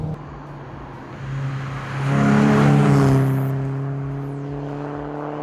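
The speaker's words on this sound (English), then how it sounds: "an engine that loves to rev" Peugeot 206 GTI engine revving, a low idle climbing into a strong rising rev with clear harmonic whine, peaking and then easing back down, close and loud with no talk.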